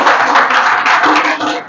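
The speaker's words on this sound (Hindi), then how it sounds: "तो जन्म हुआ तो तालियां कौन बजाएगा?" An audience claps in celebration of Krishna's birth during a religious storytelling gathering. The clapping is close, loud and busy and carries on steadily with slight swells throughout.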